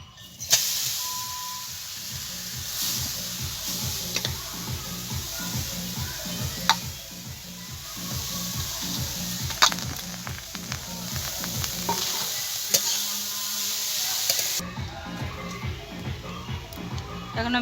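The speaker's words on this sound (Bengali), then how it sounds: "করা গাজর কড়াইতে দিয়ে দেবো।" Grated carrot frying in a spoonful of ghee in a hot wok gives a steady, close sizzling hiss that runs throughout, with faint stirring scrapes and a rhythmic low thump underneath.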